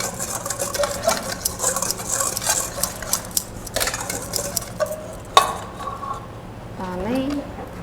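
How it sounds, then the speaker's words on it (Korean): Dry powder ingredients, including starch, whisked together in a bowl with a whisk for a hazelnut religieuse, giving a steady close scraping and rattling with a few sharper clinks. "그다음에 휘퍼로 이 가루 재료들을 먼저 잘 섞어줍니다."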